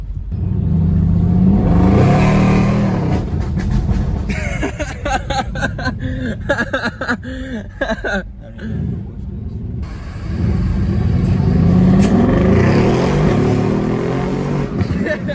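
A Mercedes-Benz CLS63 S AMG accelerates hard with a loud, continuous engine roar and deep rumble that swells, dips briefly mid-run, then surges again, while passengers chuckle and talk over it.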